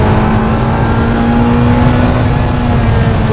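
A Ferrari 328 GTS with a naturally aspirated engine revving on the road, a loud, close, steady engine note with a sustained tone that builds slightly, heard alone with no talking.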